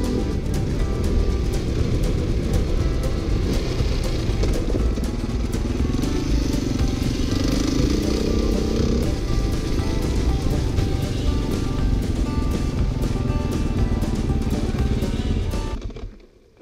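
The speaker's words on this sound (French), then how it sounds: "je roule avec une enduro" An enduro motorcycle rides along a dirt trail, its engine droning loud and steady with revving swells and clattering over the ground for about fifteen seconds before cutting off abruptly.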